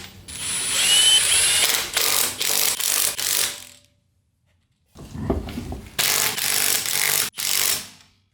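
An impact wrench zips lug nuts off a Nissan Pulsar GTI-R wheel during a wheel change, loud rattling bursts in two groups separated by a brief silence, close up with no talk.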